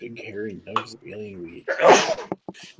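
A person speaks briefly, then a single loud sneeze bursts out, followed by a few short sounds.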